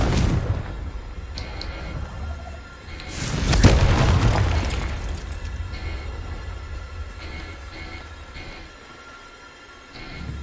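A Confringo blasting spell erupts in Hogwarts Legacy as a single loud boom followed by a long rumbling roar that swells and slowly fades over a noisy backdrop.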